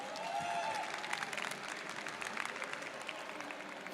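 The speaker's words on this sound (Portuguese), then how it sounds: "Palmas, por favor, bastante palmas" Audience applause at a gaming event stage, a dense burst of many hands clapping that holds at moderate volume and thins slightly toward the end, heard at some distance with no speech over it.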